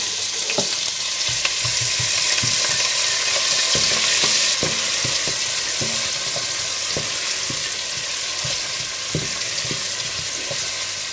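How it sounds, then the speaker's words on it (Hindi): Whole cumin seeds and onion frying in hot ghee for a dal, a steady loud sizzle with scattered stirring clinks and scrapes throughout, no talking. "घी गरम करें और इसमें साबुत ज़ीरा और प्याज डालकर हल्के ब्राउन कर लें"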